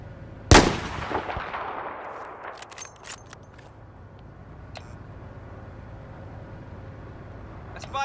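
A single sharp, loud burst of gunfire in a shooter video game, followed by a decaying echo and scattered fainter distant shots and clicks, from a hostile machine gunner.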